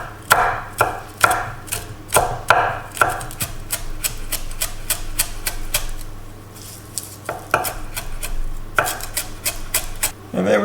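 Knife chopping celery leaves on a board, rapid close taps in bursts and a steady run of quicker strokes, with faint kitchen clatter beneath and no talking.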